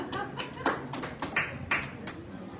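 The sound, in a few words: audience clapping after a live song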